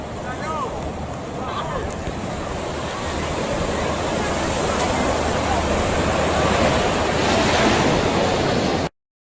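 Ocean surf at Funchal, Madeira, a steady broadband roar of dark waves washing in, loud and continuous with wind buffeting the microphone.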